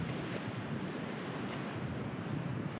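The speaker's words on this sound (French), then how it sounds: "on voit la cascade" Rushing water from a waterfall seen along a trail run course at Salles-la-Source, a steady, loud, broadband roar holding constant throughout with no speech.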